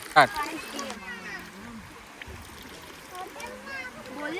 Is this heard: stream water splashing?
yes